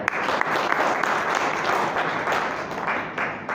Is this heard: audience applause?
yes